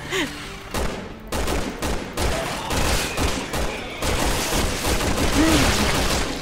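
Rapid bursts of gunfire in the video game Resident Evil 6 crackle in quick succession, loud and close, with intermittent single shots and a continuous noisy battle backdrop.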